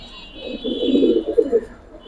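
Giribaz pigeons coo softly in a loft, a low burbling call swelling in the middle and fading out, with faint background noise.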